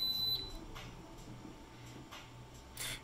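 A GasAlert MicroClip X3 gas detector runs its startup alarm test, giving a brief high beep followed by faint intermittent buzzing pulses in a quiet room.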